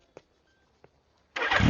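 A motorcycle engine catches and starts after a couple of faint clicks, roaring up loudly and close in the final moments.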